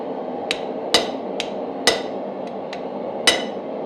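Hammer blows on a chisel while forging steel in a blacksmith's shop, cutting a twist wand: about seven sharp metallic strikes at uneven intervals, some loud and close, a few lighter taps, over a steady background hum.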